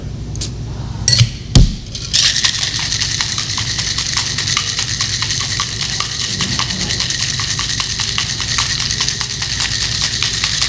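Cocktail shaker with ice and brown sugar being shaken hard, a loud, continuous rapid rattling that starts after a couple of sharp knocks and continues steadily to the end.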